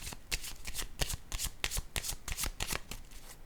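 A deck of cards being shuffled up close produces rapid riffling bursts and flicks in quick succession, crisp and papery.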